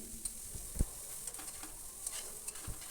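Chillies and onions fry in a pan with a steady low sizzle, broken by a few sharp stirring knocks and scrapes of the spatula; no one speaks.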